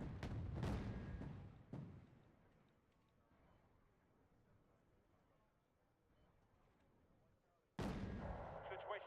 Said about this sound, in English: See, that's a pretty big salvo.